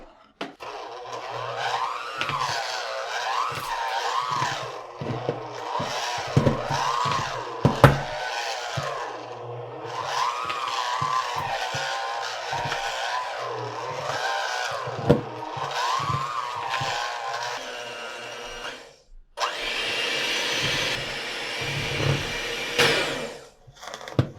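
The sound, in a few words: mixing cheesecake batter for Instant Pot cheesecake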